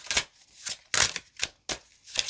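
Playing cards shuffled by hand in five quick riffling bursts with short pauses between, crisp and close, no talking.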